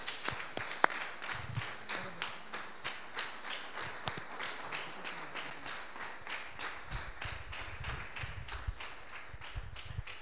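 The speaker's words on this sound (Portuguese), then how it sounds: "Pode glorificar Deus com as suas palmas de novo." A church congregation claps together at the close of a worship service, a steady, fast rhythm of many hands filling the room at moderate distance, with no talking over it.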